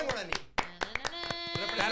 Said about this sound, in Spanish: Todo el fútbol paraguayo puede darle un aplauso.